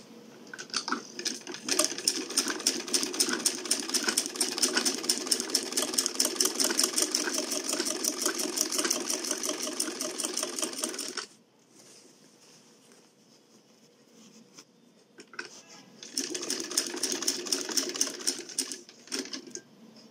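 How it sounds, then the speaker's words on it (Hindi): A sewing machine stitches the front edge of a Dawood Bohra rida with rapid, even needle clatter, pauses for about five seconds, then starts stitching again. "अब ये मैं फ्रंट गोल जो है पूरा सिलाई कर रही हूँ"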